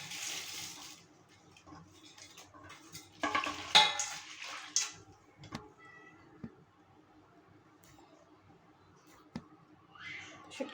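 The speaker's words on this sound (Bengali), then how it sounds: "আমি সব শুটকিগুলো একটু ধুয়ে নেব।" Chanda dried fish is rinsed in water in a pot, with splashing and clinking of metal in short bursts, the loudest around the middle, then sparse quiet knocks and drips amid a low background.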